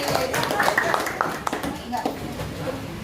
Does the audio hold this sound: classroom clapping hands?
yes